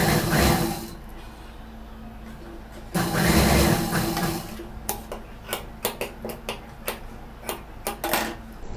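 A sewing machine stitches a piping joint on a neck piece: bursts of whirring motor noise, then a run of sharp, evenly spaced ticking stitch clicks, close and clear.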